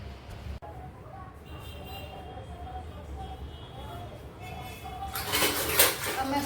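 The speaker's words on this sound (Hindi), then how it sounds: "अब मैं शुरू कर रही हूँ बर्तन धोना।" Dishes, pots and pans being washed at a home kitchen, with steady clinks of cutlery and utensils at close range and running water rushing louder near the end.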